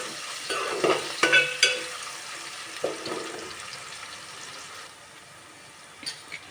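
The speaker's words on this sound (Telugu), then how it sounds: "ఆనియన్స్ అయితే ఇలా వేగాయి. ఇంకొంచెం వేగనిద్దాం." Onions frying in a pan for an ivy gourd dish, a steady soft sizzle with a few sharp stirring clinks early on, then a quieter continuous hiss.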